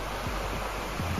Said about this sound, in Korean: 이 흐르는 물소리 들리시죠?